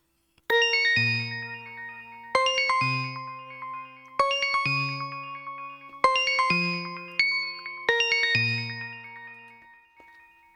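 A bright, high-pitched beat melody raised two octaves plays clean and dry with no effects, with bell-like notes in repeating phrases and short gaps between each phrase.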